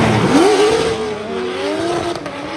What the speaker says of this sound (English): Coming now to outside zone 2, a bit of a handbrake there, and Przgonski is close there